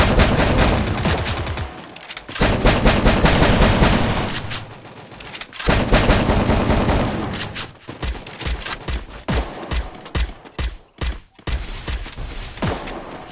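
Rapid gunfire bursts from the Free Fire video game, with loud dense volleys of shots followed by a stretch of separate sharp reports, close and continuous.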